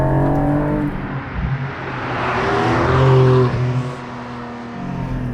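A Euro-spec Porsche Cayman GT4 with PDK automatic revs and accelerates steadily in comfort mode, loud and close, its pitch climbing and falling over several seconds with a smooth, throaty tone and no talking.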